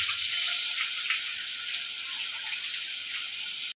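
Water runs steadily from a tap to wash gongura (sorrel) leaves in a kitchen, a continuous close hiss and rush lasting throughout with no voices.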